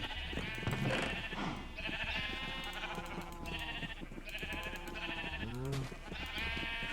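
Repeated Minecraft sheep bleats, several overlapping, wavering and nasal, with a steady game ambience underneath and no talking.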